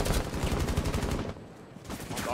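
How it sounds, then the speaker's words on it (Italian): Sustained rapid machine gun fire in the video game Rainbow Six Siege, a loud close burst that breaks off briefly before firing resumes. "me stai sparando con una Vulcan"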